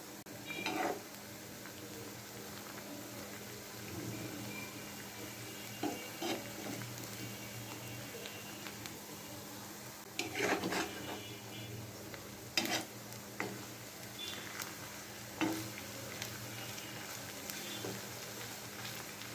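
Sliced onions fry in oil for beresta, a soft continuous sizzle under intermittent clinks and scrapes of a spoon stirring in the pan.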